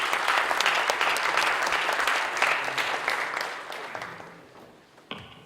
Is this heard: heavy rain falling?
no